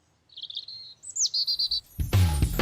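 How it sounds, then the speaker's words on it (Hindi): Birds singing in a quiet natural setting, with a few clear repeated chirping phrases close by, then a sudden burst of louder rustling noise at the end. "सुनो सुनो सुनो सुनो, परिंदों की आवाजें।"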